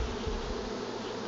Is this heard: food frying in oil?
no